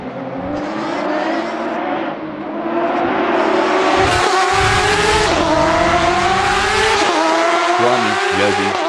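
A Porsche 911 RSR race car in the Assetto Corsa racing game, driving at Spa, with a loud, continuous engine roar that rises and falls through gear changes, plus brief tire squeal, and no talking.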